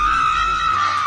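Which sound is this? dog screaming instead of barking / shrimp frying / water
dog screaming instead of barking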